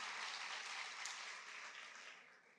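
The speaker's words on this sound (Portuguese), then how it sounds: "Aplauda ao Senhor pela vida dele" A church congregation in João Pessoa applauds to honor a birthday celebrant during a service, a faint, distant wash of clapping that slowly fades away.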